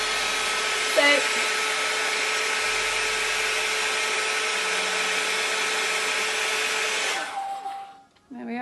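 A hair dryer blows steadily and loudly while hair is blow-dried for volume, a constant whooshing drone that dips and shifts near the end as the airflow changes, with a brief spoken word near the start.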